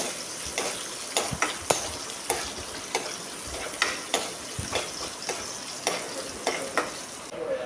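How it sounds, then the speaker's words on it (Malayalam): Ginger and green chili sauté in a pan with a steady low sizzle, punctuated by regular, sharp spoon taps and scrapes against the pan every half second or so, with no voice. "ഇഞ്ചി പച്ചമുളക് ഇതെല്ലാം കൂടി ഒന്ന് മൂപ്പിച്ചെടുക്കാം"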